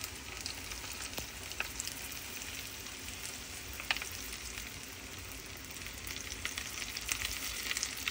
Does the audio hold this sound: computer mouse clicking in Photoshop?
no